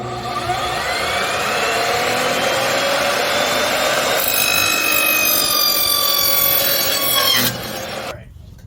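A security door's metal bottom plate being trimmed with a power tool gives a steady, loud grinding rasp with rising whine, running continuously for about seven seconds before cutting off abruptly.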